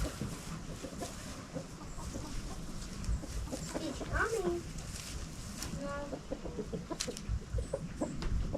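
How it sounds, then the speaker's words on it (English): An escaped homestead chicken clucks in a few short bursts, somewhat distant and partly buried under a person talking and steady outdoor background noise. "Somehow, we have an escaped chicken."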